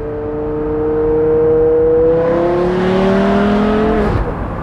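A 2006 Porsche Carrera GT engine pulls hard, a loud, steady, harmonic howl that climbs in pitch for about four seconds before dropping away abruptly.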